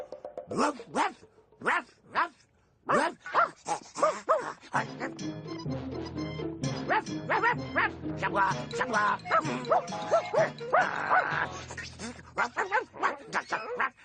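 A voice imitating a dog, giving a quick run of short barks and yips before music swells up underneath and continues with more vocal sounds.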